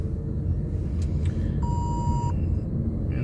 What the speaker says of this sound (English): this thing is beeping at me